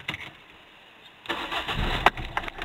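Fairly quiet at first, then with the clutch pressed fully and the key turned, a C2 Turbo car's engine cranks and catches, settling into a rough, steady running rumble with a few sharper bumps.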